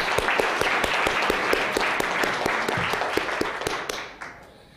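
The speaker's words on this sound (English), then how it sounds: "Let's have one more round of applause for that terrific panel." Audience applause for a health-policy panel at a National Academy of Medicine event, dense steady clapping from a hall crowd with sharp individual claps, fading out near the end.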